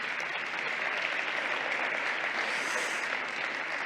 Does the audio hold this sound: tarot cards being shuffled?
no